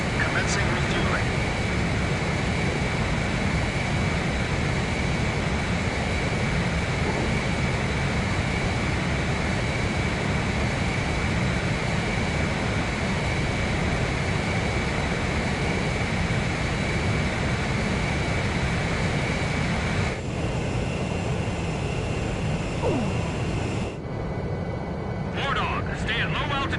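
Steady aircraft engine roar in the Ace Combat game while a plane holds its flight path for aerial refueling, a continuous dense drone running under spoken radio dialogue.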